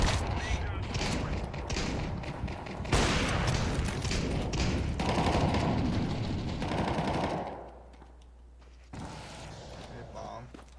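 Rapid video game gunfire in bursts, loud and dense across the first seven seconds, amid a tactical shooter match with grenades, smoke and flashbangs, then dropping to a quieter hum with scattered thuds.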